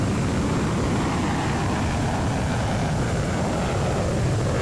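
Jet fighter planes flying in a Roblox game give a steady, loud, broadband engine roar with a low rumble that holds unbroken through the whole stretch, with no voices over it.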